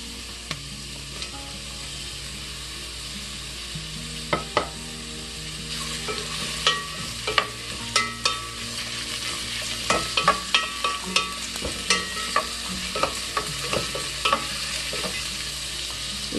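Shiitake mushrooms sizzle in a pan with cooking oil and sesame oil, a steady crackling fry punctuated by irregular clicks and clatters of stirring, close and alone.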